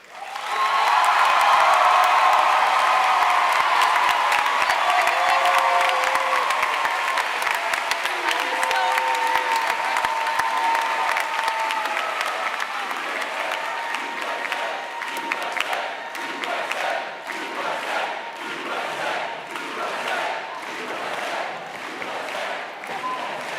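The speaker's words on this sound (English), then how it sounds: "provide one last round of applause for Governor Parson as he exits the stage" Sustained audience applause at a joint assembly session of Missouri Boys State and Girls State, a large crowd clapping loudly and steadily for the governor before slowly thinning toward the end.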